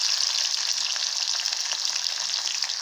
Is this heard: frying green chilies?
yes